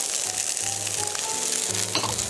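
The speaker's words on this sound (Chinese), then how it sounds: "这些我切成这样条状是等一下就是做摆盘的，所以先下去煎一煎。" Baby corn and vegetable strips dry-frying in a pan, a steady close sizzle running throughout with faint clinks of the pan, no talk.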